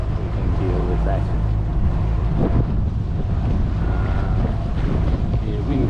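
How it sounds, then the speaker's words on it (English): Wind gusts buffet the microphone out on Arthurs Lake, a steady low rumble of blowing air with broadband rushing throughout, under occasional faint voice sounds. "Wind gusts blowing from here, they're blowing into the bay"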